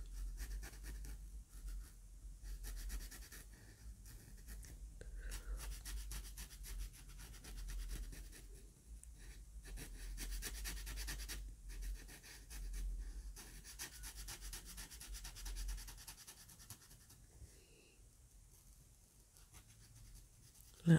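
A marker colors plywood Dollar Tree Easter decor in soft, close scratchy strokes, coming in irregular bursts with brief pauses and no talk.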